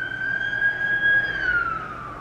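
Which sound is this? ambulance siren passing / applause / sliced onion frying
ambulance siren passing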